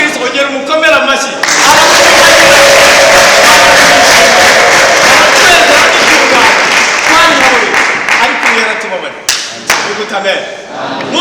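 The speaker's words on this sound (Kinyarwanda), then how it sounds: "Ongera umukomera amashyi wenda." A church congregation applauds during a sermon, loud sustained clapping that builds quickly and then breaks into scattered claps and thuds, with voices mingling throughout.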